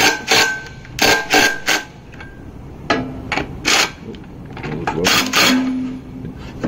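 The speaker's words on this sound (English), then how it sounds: "to engage it, what you do is you're going to loosen this nut here" Metal clanks and ratcheting wrench clicks come from loosening a nut on a side-mounted piling pad, arriving in several short bursts separated by brief pauses, close and fairly loud with no talking.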